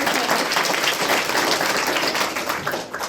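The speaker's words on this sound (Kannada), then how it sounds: "ನೀವು ಹೊಡಿತಿರೋ ಚಪ್ಪಾಳೆ ಎನರ್ಜಿ ಈ ಕಡೆ ಪಾಸ್ ಆಗ್ತದೆ" A school event audience in Krishnarajapet claps vigorously, a dense, loud, continuous wash of many hands that eases slightly near the end.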